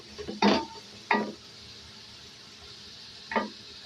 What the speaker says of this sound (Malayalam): ഇപ്പം നമ്മൾ ചീരയും പയറും തണ്ടും പയറും കൂടിയാണ് ഒതുക്കിയത് ചേർത്ത് ഇണക്കുന്നത്.